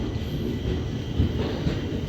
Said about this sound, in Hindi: ये उस तरफ लगी हुई है मंसूरी एक्सप्रेस